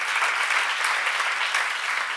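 A church congregation bursts into steady, dense applause at a worship seminar, a continuous wash of many hands clapping together throughout with no voices standing out.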